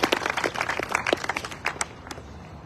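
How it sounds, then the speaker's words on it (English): Audience applause at an Alamo commemoration opening ceremony, a short burst of scattered clapping that thins out and fades over a couple of seconds. "Can we please give them also a warm round of applause?"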